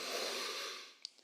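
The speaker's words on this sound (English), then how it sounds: "Breathing." A long, slow exhale during a wall calf stretch, a soft airy breath that gradually fades out, followed by a faint brief sniff.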